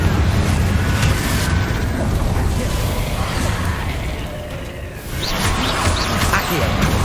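A Confringo fire spell blasts in a Harry Potter video game, a dense, roaring explosive rumble that fills the whole stretch, dips briefly and surges again, with a voice calling out over it.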